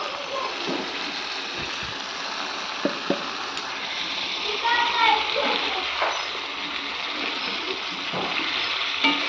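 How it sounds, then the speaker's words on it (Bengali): A little water goes into a thick, simmering meat curry, bringing soft splashing and a hissing sizzle from the pan while someone talks over it at close range. "এখন এখানে আমি সামান্য একটু জল দিয়ে দিই"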